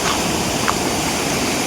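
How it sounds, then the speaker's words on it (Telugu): A waterfall roars close by as a dense, steady wash of rushing water that fills the whole short stretch without a break. "ఇలా వాటర్ ఫాల్ సౌండ్ బాగా వస్తుందంటే అర్థం ఏంటంటే మన దగ్గరికి చేరుకున్నాం"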